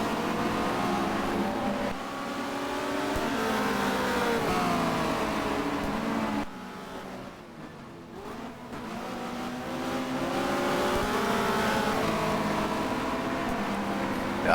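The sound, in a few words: Ferrari touring race car racing at Barcelona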